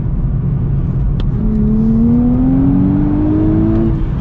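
A 2023 Nissan Z Performance with a manual gearbox revs up steadily and loudly nearby, its pitch climbing smoothly as it accelerates hard through second gear.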